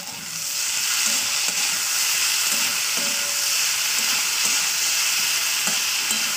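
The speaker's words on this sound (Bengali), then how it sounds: "এবার এটাকে ভালো করে আমি তেলের সঙ্গে ভেজে নেবো" Diced vegetables with potato, beans and tomato for chira pulao fry in hot oil, a steady loud sizzle with occasional scraping stirs throughout, no voices.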